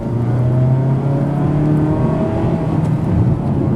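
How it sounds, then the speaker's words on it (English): A 2019 Mazda CX-3 engine hums steadily under light throttle, a smooth continuous drone heard from inside the cabin with no talk. "Giving a little gas here."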